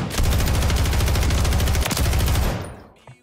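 Rapid automatic gunfire in Call of Duty Zombies, a loud, steady stream of closely spaced shots with heavy recoil that runs for over two seconds, then cuts off and trails away.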